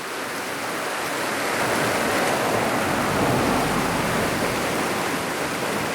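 A swollen creek rushing after a hail storm, a loud, steady roar of churning water that fills the whole stretch without a break.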